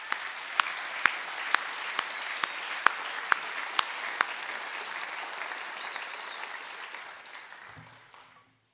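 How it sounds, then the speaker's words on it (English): An audience at a school academic awards evening claps, several sharp individual claps at first, then a full, even wash of applause that fades out toward silence at the end. "Can we please give these boys another round of applause?"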